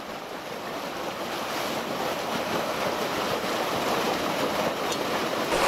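Water pouring steadily out of a creek weir at an agricultural research site, a continuous broadband rushing wash with no breaks, close and fairly loud throughout.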